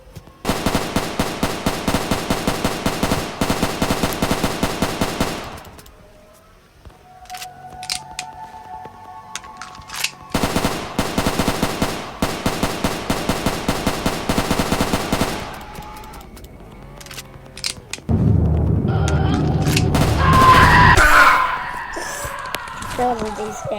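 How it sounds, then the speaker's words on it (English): Rapid video game gunfire in long loud bursts, three sustained volleys separated by short pauses, ending in a denser burst of mixed noise, with no talk over it. "then you get your gun out and you start shooting him"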